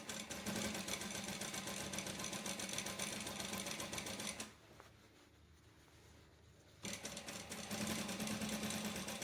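A sewing machine runs in steady, close bursts while stitching a skirt, stopping for a couple of seconds of near quiet before the whirring, rapid stitching resumes.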